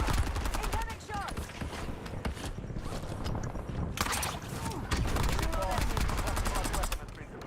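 Gunfire in Warzone, sustained rapid automatic fire and repeated shots, loud and continuous, mixed with in-game voice lines and clattering movement.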